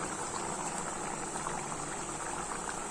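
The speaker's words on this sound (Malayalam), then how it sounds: "ഇനി നമ്മളിതിനകത്തോട്ട് ഒരു സ്പൂൺ വിനാഗിരിയാണ് ഒഴിച്ചു കൊടുക്കുന്നത്" Beef pickle bubbles in a pot with a steady, close simmering burble, the liquid churning continuously without pause.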